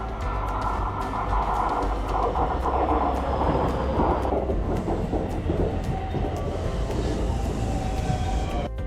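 A local train in Japan, bound for Himeji, rumbles steadily along the rails with continuous low rattling and clatter, the cabin noise loud and close throughout.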